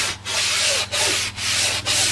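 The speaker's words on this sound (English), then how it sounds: "In our case, we're using a piece of sand paper that the drywall installers use." Drywall sandpaper scrubs across a cut edge of styrofoam in steady back-and-forth strokes, a close, loud rasping hiss broken by four brief pauses between passes.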